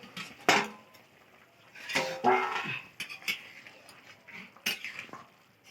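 A lid comes off a cooking pot of boiled vegetables with a few sharp metallic clinks and scrapes, close and fairly quiet, separated by short pauses in a home kitchen.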